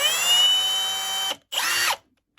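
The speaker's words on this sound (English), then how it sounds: "I'm just going to pre-drill a hole here." A power drill pre-drills a hole in wood for a figure eight fastener, a loud, close motor whine running steadily for over a second, cutting out, then a second shorter burst before stopping.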